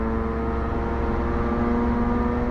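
A race car driving in heavy rain gives off a steady, droning engine hum with a strong, constant vibration tone running underneath throughout.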